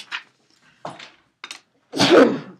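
A few short breathy gasps and sniffs lead into one loud, close sneeze at the end.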